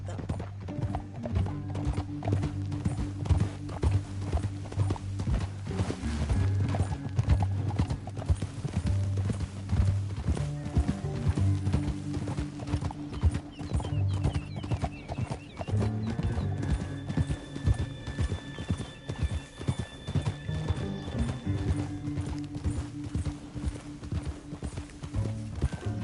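Hooves clip-clop steadily as horses trot along in a PS4 video game, with occasional whinnies and a low game soundtrack humming underneath.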